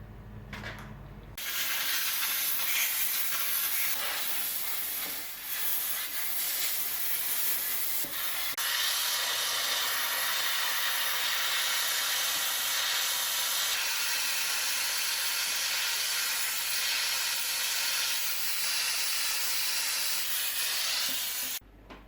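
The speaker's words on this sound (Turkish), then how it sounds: "Şimdi buhar makinesiyle ocağımı temizleyeceğim." Steam cleaning machine blasting a kitchen stove, a loud continuous hiss that starts abruptly and holds steady for about twenty seconds, close and unbroken, with no talking.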